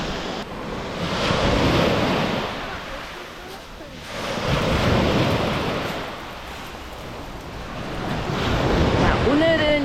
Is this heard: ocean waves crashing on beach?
yes